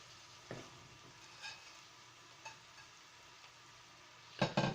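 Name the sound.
stirring bottle gourd leaves and shing fish curry in pan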